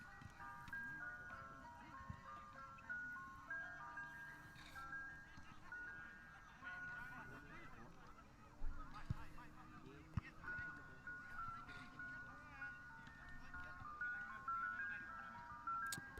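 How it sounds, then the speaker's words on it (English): An ice cream truck at a park plays a looping clown-style jingle, faint and distant, beneath someone talking over a soccer match. "Apologies for the clown music in the background. There's an ice cream truck at the park"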